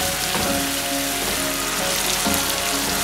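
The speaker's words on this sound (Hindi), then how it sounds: "अच्छा सा हम इसको भून लेंगे" Boneless achari chicken fries on a hot tawa with tomato, a dense, loud, continuous sizzle like steady rain, with faint scraping of stirring mixed in and no talk.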